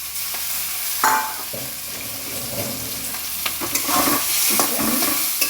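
Drained taro leaves hit a hot pan with salt, turmeric and green chilies, hissing and sizzling while a spatula scrapes and stirs them in close, uneven strokes.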